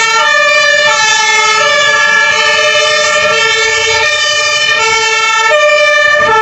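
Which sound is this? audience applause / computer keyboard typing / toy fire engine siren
toy fire engine siren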